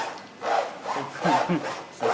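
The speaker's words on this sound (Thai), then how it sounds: "ดูนะครับ การเลื่อยของท่านท่านมีเทคนิคการเลื่อยที่ไม่เหมือนใครนะ" A hand saw works through wood in uneven rasping strokes, several pushes and pulls at moderate loudness with brief pauses between them.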